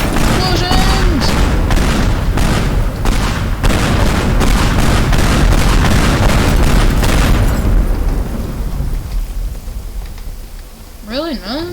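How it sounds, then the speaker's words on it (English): Dense, rapid booms and blasts pile up from explosions in the video game Teardown, loud and continuous for several seconds before thinning into rumble, with a voice speaking over the chaos. "Explosions!"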